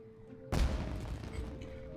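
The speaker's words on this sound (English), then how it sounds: "It sounded like fireworks." Fireworks exploding in the video game Genshin Impact, one sudden loud boom with a crackling burst that fades out over a steady background tone.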